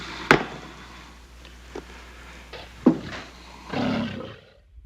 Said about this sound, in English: the lions are back